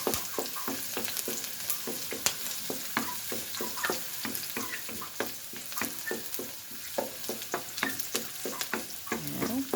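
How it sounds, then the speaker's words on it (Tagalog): Garlic and onion sauté in a pan with a steady sizzle, overlaid by repeated close scraping and tapping of a utensil stirring, with no talking. "Gigisa lang ang bawang at sibuyas"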